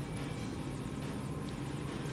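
A helicopter flies in the superhero video game Champions Online, its steady, close rotor and engine drone forming a loud, unbroken rumble with no voices.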